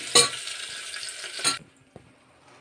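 Vegetables with green chillies stir-fried in a pan, a steady sizzle with a couple of scraping stirs, then a sudden quieter stretch with a light clink near the end.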